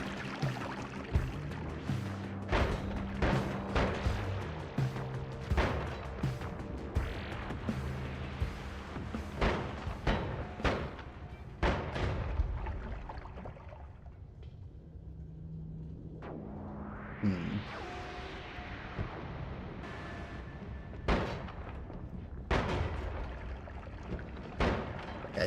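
Missiles explode in a video game: a rapid, irregular string of booming blasts, then a brief lull with a rising whooshing sweep, and the blasts resume, all loud and close.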